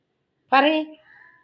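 A voice imitates a cat's meow, a single short nasal call trailing off quickly.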